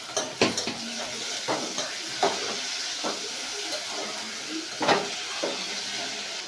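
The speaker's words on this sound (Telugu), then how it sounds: "ఉల్లిపాయ ముక్కలు పచ్చిమిర్చి ముక్కలు ఇంకా టమాటా ముక్కలు కూడా వేసేస్తున్నాం" Onion, green chilli and tomato pieces sizzling in a pan, a steady fry hiss punctuated by several sharp clinks and scrapes of a spoon stirring against metal, close and without voices.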